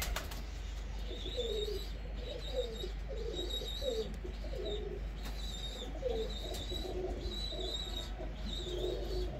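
A flock of jaldar pigeons in a breeder setup coos steadily in low, rolling calls, with higher chirps repeating above them against a constant background hum.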